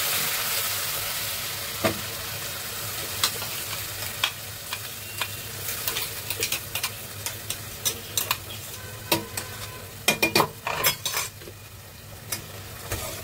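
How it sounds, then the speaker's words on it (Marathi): Masala gravy with asafoetida fries in a pan for a paneer mushroom masala, a soft low sizzle under repeated scraping and clinking of a spoon stirring against the metal, no voices. "मस्त आता मसाला आपण भाजून घेऊया."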